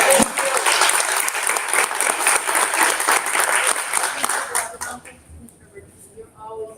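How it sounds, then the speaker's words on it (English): An audience at a business event on construction and skilled trades claps in a loud, dense round of applause that fades out near the end, leaving faint room noise. "Can we just give you a round of applause?"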